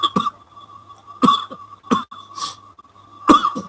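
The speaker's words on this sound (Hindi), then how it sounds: "ठहरे मैं पानी पी लूं, मुझे खांसी आ जा रही।" A person coughs several times in short harsh bursts, close to the microphone, with a steady low hum underneath.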